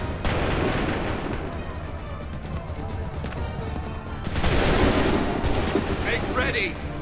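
Musket volleys in Assassin's Creed III, rolling massed gunfire on a battlefield with a swelling burst of shots midway and continued crackling fire afterward, loud and dense.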